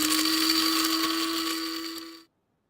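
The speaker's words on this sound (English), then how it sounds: "And that's actually a coffee grinder" An electric coffee grinder whirs loudly and steadily at a high constant pitch for about two seconds, then cuts off abruptly into silence.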